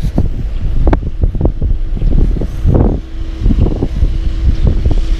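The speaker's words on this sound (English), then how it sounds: "And the wind is blowing 20 miles an hour." Strong wind of about 20 miles an hour blowing outdoors by the water on a cold spring day, loud rumbling gusts buffeting the microphone in repeated bursts with no speech.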